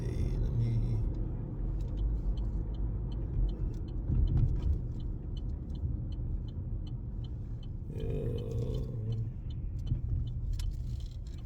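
An old car driving, with a steady low engine and road rumble throughout and faint ticking and rattling on top, heard from inside the car.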